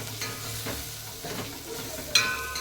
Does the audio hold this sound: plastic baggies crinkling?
no